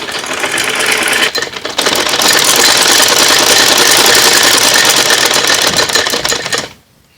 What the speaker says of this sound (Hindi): एनू हुण असीं सिलाई लाने आ।